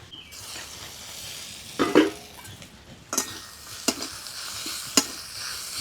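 Radish greens stirred and fried in fish oil in a pan with a pinch of turmeric, giving a steady low sizzle broken by a few sharp utensil scrapes and clinks near the pan.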